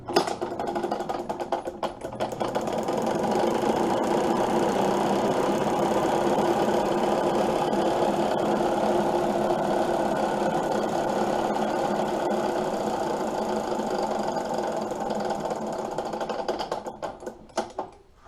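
A magneto spinning on a magneto tester in a repair shop, a loud steady mechanical whir with a rapid ticking, snapping texture that runs evenly for about fifteen seconds before winding down.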